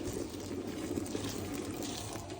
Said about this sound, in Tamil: நாங்கள் சுடு தண்ணி விடுவோம்